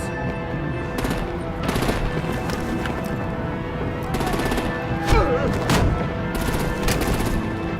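Video-game gunfire and artillery in Batman: The Telltale Series, with repeated bursts of rapid shots, loud close cracks and heavier impacts spread across the scene.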